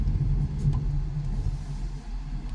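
Auto-rickshaw engine held under acceleration as a learner driver presses the throttle, a steady low rumbling drone with slight swells, close and continuous, no talk over it.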